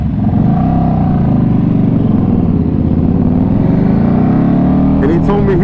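A KTM RC8 1190 R sportbike engine runs loud and close as a continuous, throaty drone whose pitch rises and falls with the throttle while riding.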